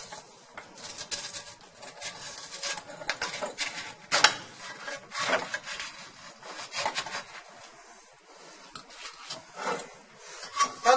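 Faina, a thin chickpea flatbread cooked with very little oil, being scraped and lifted out of its pan, giving a steady run of close metallic scraping and rasping with a few sharper clanks, heard alone.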